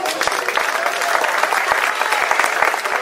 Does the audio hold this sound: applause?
yes